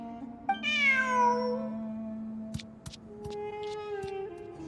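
A cat meows in the video game Genshin Impact, one clear drawn-out call near the start, then a quieter meow later amid faint clicks over a soft steady background tone.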